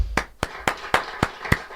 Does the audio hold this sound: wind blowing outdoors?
no